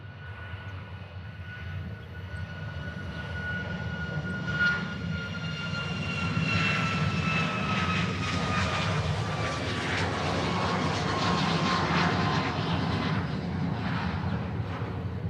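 A large aircraft engine at Honolulu airport rumbles and whines at a distance, steadily growing louder as the plane taxis past, with a rising and falling turbine tone and no talk.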